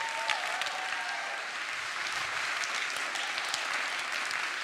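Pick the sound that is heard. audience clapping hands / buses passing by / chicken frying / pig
audience clapping hands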